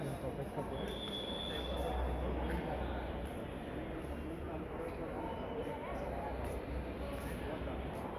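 Dhaka Metro Rail train standing at a station on a hazy winter day: a constant low rumble and hiss of platform and train noise fills the whole stretch, with faint high tones above and no clear pauses.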